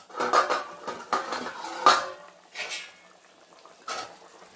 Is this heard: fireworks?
no